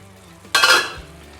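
Bell pepper sauce at a gentle simmer in a pot as the lid comes off, giving a sudden burst of soft bubbling hiss that swells for a moment and then eases back to a quiet murmur.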